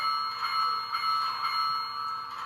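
A steady bell-like ringing with a sustained metallic tone and faint repeated strikes, moderately loud and continuous, with no talking.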